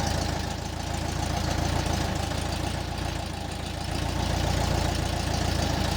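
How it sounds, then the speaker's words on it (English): A 1968 VW bus engine idles steadily up close, a loud, even rumble with a faint rhythmic chug and no voices. "You can hear the engine pick up"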